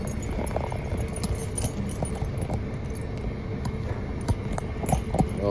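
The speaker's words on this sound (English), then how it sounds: "Let me get my keys." Keys jangling during a delivery stop before a snowstorm, light metallic clinks scattered over steady vehicle and outdoor background noise, with no speech.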